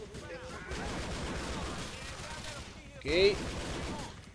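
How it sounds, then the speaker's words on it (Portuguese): Gunfire crackles in a heavy police shootout in GTA IV: The Lost and Damned, with shots spread through the clip and a louder burst near the end, while someone talks over it. "A gente tá num tiroteio intenso com a polícia aqui por tua culpa, tá?"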